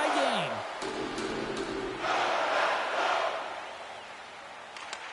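A hockey arena crowd in NHL 25 roars and cheers continuously, loud at first and then gradually easing off, with distant calls and shouts scattered through the din.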